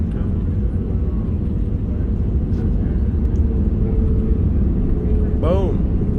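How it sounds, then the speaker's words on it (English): An airliner descends into Las Vegas, heard from the cabin as a loud, steady engine and airframe rumble, with a brief chime near the end. "as we're flying into Las Vegas. Speed it up a little bit. Here it is. I think we're landing."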